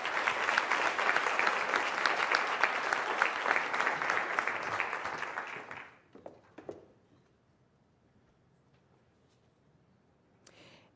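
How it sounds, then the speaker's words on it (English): An audience at a North Carolina Teacher of the Year ceremony gives a steady round of applause that stops abruptly about halfway, followed by near silence and a few faint knocks. "Let's give Brian another round of applause"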